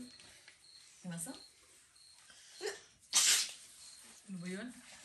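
A single sharp sneeze bursts out at close range amid a relaxed mahjong game indoors, with people chatting before and after it.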